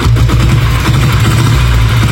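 An old diesel Bullet motorcycle engine running loud and close, a dense low rumbling throb that holds steady throughout with no pauses.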